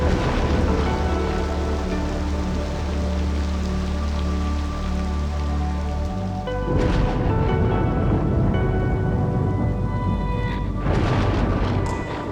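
Heavy rain pours steadily across a video game scene, loud and close, while low rumbles of distant thunder roll in partway through and again near the end.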